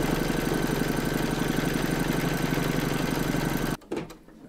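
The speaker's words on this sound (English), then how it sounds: "you're now going to stitch round number nine, and that's going to do the decorative top stitching over the join" A computerized embroidery machine stitches decorative silver top stitching over a join on an in-the-hoop crazy patch quilt block, with a steady, fast mechanical rhythm at close range that abruptly stops near the end.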